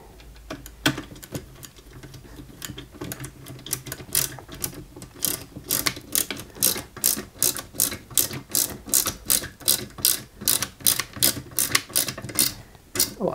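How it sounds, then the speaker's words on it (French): Small screws being driven into a Lancia 037 model kit part, a fast steady run of sharp close ratcheting clicks with a brief pause near the start, no voices. "Allez, on va commencer à visser ici."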